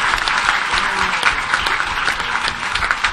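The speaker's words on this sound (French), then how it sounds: "Je vous demande d'applaudir." A crowd at a teachers' network meeting claps loudly and continuously, dense, close applause filling the whole moment without voices.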